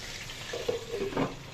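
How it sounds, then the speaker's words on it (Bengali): Stingray fish frying crisp in a pan, a soft steady sizzle with a few brief louder bursts of spitting oil partway through, alone without talk. "আর শঙ্কর মাছটা আছে না একটু কড়া করে না ভাজলে খাওয়া যায় না"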